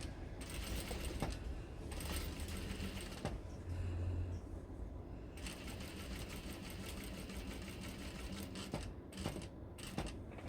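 A sewing machine stitching the neckline of a dress over thick gathered seam allowance, running in a steady close mechanical whir with brief pauses and a few clicks between stretches of stitching.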